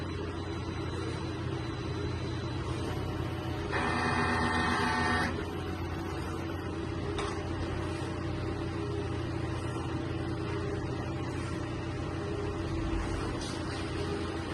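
A Smart 2 sublimation printer runs a nozzle-cleaning cycle on its print head, a low mechanical whir with a louder buzzing pump burst partway through, then quieter clicks and hum.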